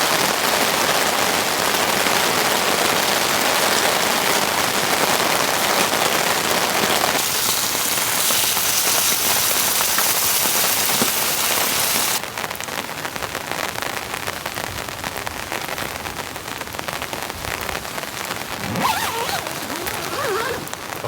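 A deluge of heavy rain pounds a closed-up winter camping tent, a loud unbroken wash of drumming drops that shifts in texture partway through, with a brief zipper-like rustle and no speech.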